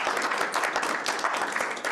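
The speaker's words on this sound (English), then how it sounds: "And let's give her a round of applause and a welcome." An audience at a school district board meeting claps in welcome for a newly introduced communications director, a brief, steady patter of moderate applause heard indoors without speech.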